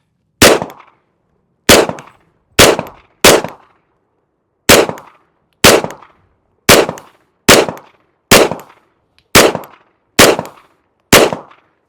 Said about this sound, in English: Okay, these are my first shots. CZ P10c.